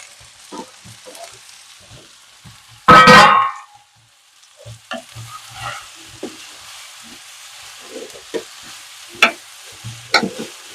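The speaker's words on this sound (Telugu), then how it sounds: "ఇప్పుడు తరిగి పెట్టుకున్న బీరకాయలు ఇందులో వేద్దాం" Chopped ridge gourd drops into a hot red chili tempering with one loud burst of sizzling, then quieter frying and occasional stirring scrapes follow.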